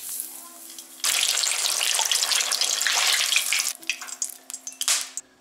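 Half an onion frying in hot oil inside a heated kazan, a steady loud sizzle that bursts in at once and then thins into uneven crackling spurts, with a faint steady hum underneath.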